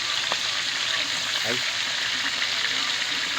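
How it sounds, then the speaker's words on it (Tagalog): Fish frying and sticking in a pan, a steady broadband sizzle throughout with a brief scrape and a short exclamation from a nearby voice. "Kahirap talaga mga kanter ng prito na walang ano, dumidikit pa."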